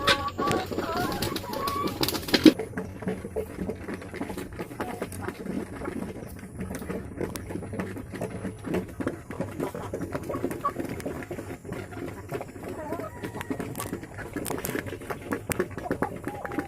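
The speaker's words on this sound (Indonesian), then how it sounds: "Ketika kita berikan makan mereka sudah mulai ribut dan aktif kembali" Chickens at feeding time on a poultry farm make low, busy clucking and cooing, a faint continuous flock chatter with scattered louder calls.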